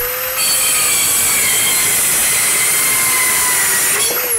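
A Worx mini circular saw cuts through wood with a loud, steady high-pitched whine, sustained without break for several seconds after a brief spin-up, and no one speaking.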